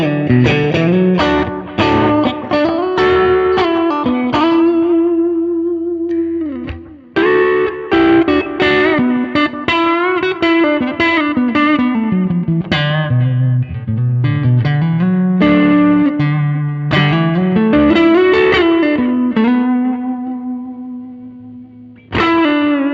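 Electric guitar through an amp driven by a King of Tone overdrive pedal, playing a long, loud, continuous bluesy passage of gritty picked notes and bends with only brief gaps.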